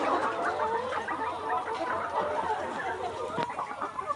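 Layer hens on a poultry farm cluck in a busy continuous chorus, many birds overlapping at mid distance with occasional sharper calls, under a faint background hum.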